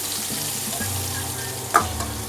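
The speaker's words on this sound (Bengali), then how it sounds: "এই পেঁয়াজটাকে লাল লাল করে ভেজে নেবো।" Chopped onions frying in oil for chicken kosha, a steady close sizzle with low stirring rumble and one brief clatter near the end, no voices.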